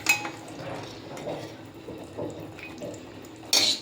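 Dishes and utensils clink and scrape while egg masala is served, with faint water trickling and a sharper clatter at the end, fairly quiet and with no talk.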